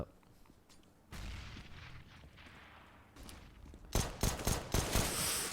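Bursts of automatic gunfire spraying during an ESL India esports match, with a steady game backdrop that erupts into loud, rapid clustered volleys in the final seconds.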